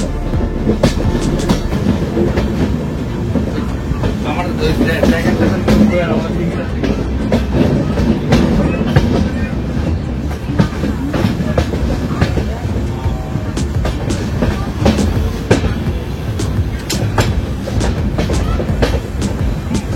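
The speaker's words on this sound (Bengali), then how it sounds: "এটা পুশপুল ট্রেন, তো পেছনের লোকোমোটিভটাও ইম্পর্টেন্ট এখানে" A push-pull Amrit Bharat Express, with locomotives at both ends, runs along the line with a loud, continuous rumble and clattering wheel rhythm that carries on without a break.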